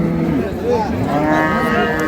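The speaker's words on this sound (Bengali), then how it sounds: "আর একটা বাছুর দেখছি" A female calf moos at a busy cattle market in Ambari, Dinajpur, where dairy cows are sold with their calves; a steady, close, drawn-out bellow sounds through the whole stretch with a faint undertone of talk.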